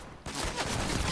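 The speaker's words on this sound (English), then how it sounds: "It's like a regular pistol that can track people if you can't see them anymore." Rapid gunfire from a tracking pistol in the Fortnite video game, a dense run of shots that starts abruptly after a brief quiet moment and stays loud throughout.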